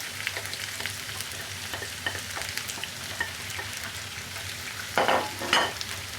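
Onions sizzle and fry in oil or ghee in a pot for a boiled egg masala curry, a steady close crackle with a few scraping stirs and two louder bursts near the end.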